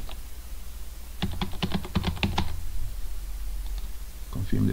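A computer keyboard typed on to enter a password credential, a quick burst of close, crisp key clicks lasting about a second, then a pause and a few fainter taps.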